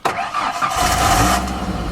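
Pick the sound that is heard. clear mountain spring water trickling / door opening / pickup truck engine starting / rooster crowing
pickup truck engine starting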